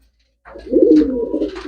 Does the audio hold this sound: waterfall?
no